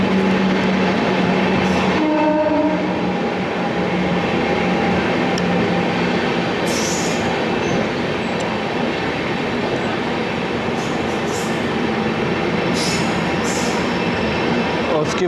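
Amrit Bharat Express train rolling slowly through Anand Vihar station, a steady close rumble and wheel rattle throughout with a few brief higher squeals and clanks near the start and later.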